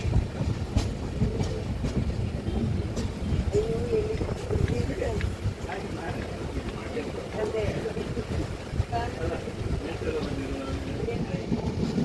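A passenger train departing Murudeshwar rumbles along with a steady low roar and faint rail clatter throughout, while voices talk over it.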